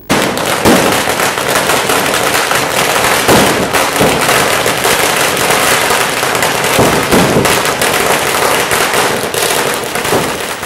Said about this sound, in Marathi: लक्ष्मी पूजन झाल्यावर फटाक्यांच्या सरींवर सरींनी जणू लक्ष्मीला सलामी देण्यात आली